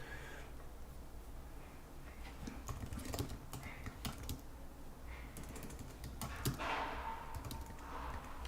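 Quiet keystrokes on a computer keyboard, a soft irregular patter of taps in short bursts over faint background hum.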